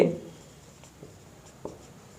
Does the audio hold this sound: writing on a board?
yes